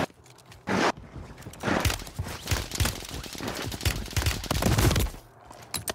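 Bursts of gunfire in a solo battle-royale video game, fired through walls, crackle in dense rapid volleys alongside sharp single shots, loud and continuous throughout with no talking.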